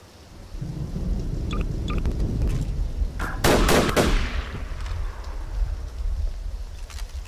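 Gunfire from Additional M9K weapons in Garry's Mod, heard as a loud burst of rapid shots over a rumbling, noisy background with a few sharp cracks around the middle.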